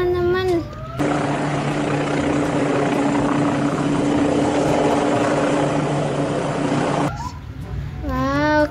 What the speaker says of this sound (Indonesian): keren banget ya teman-teman helikopter patrolinya